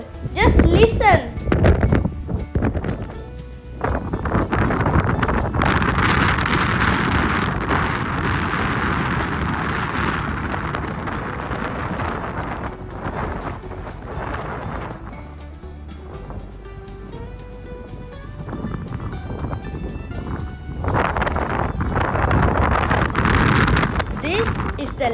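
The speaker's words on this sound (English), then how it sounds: "The sound of the wind was so loud." Strong wind roars across the top of a lighthouse on Bornholm island, Denmark, a loud sustained rush with gusts that swell and ease over about twenty-five seconds, a voice speaking at moments through it.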